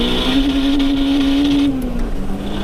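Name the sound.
turbo Honda DC5 racing an Audi RS3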